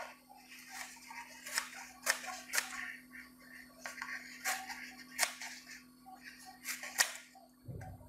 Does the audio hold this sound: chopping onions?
no